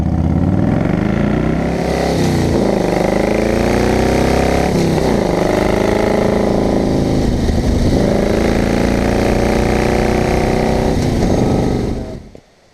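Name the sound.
Harley-Davidson Wide Glide motorcycle engine idling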